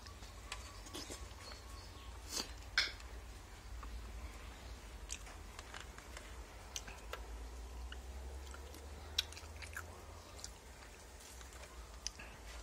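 Soft, wet chewing of Thai chive dumplings (kuichai) close to the mic, with faint squishy bites and scattered small clicks over a quiet background hum.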